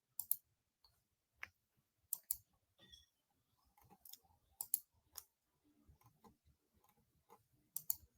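Computer mouse clicks on a business dashboard, several crisp, close ticks spaced irregularly with brief quiet gaps and faint background rustling.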